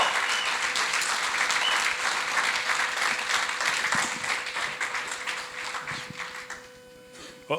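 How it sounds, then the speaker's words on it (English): Audience applause for a sheriff at a county Republican Party dinner in Wisconsin, a dense sustained clapping from a large room that gradually thins and fades toward the end over a low steady hum. "let's give the sheriff one more round of applause"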